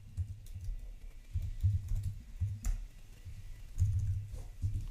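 Fingers type steadily on a computer keyboard, a close, quiet patter of soft key clicks in uneven bursts with brief pauses, alone with no talking.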